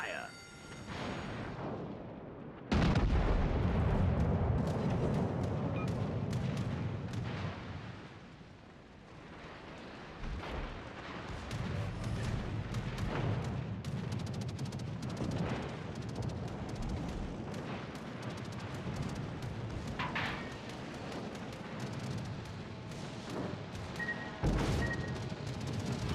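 Heavy naval guns pound a cruiser in a warship video game, with a loud opening blast and then a long roaring rumble of repeated gunfire and impacts, and a voice speaking occasionally over the din.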